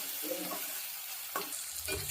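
Bitter gourd with garlic, salt and turmeric frying in peanut oil, a soft steady sizzle broken by a few quiet scraping stirs of the spoon.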